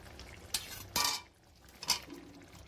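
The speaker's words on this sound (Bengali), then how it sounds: "এবার এতে আমি সেদ্ধ না ভাজা আলুগুলো দিয়ে দেবো একে একে।" Fried potatoes are added one by one to a pot of meat, giving a few soft clinks and thuds against the metal pot, quiet and close, with pauses between them.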